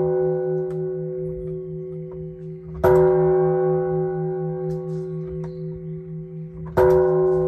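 A large temple-style bronze bell about 1.2 meters tall in Ohala Town is struck twice, each deep strike blooming into a long humming, shimmering resonance that slowly decays before the next blow, close and clear with no talking.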